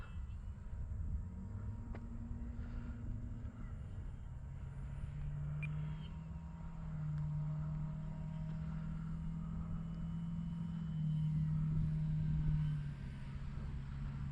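A steady droning engine hum with a shifting pitch as a radio-controlled Carbon Z T-28 model airplane flies by with flaps and landing gear down, continuous and moderately loud, with no voices.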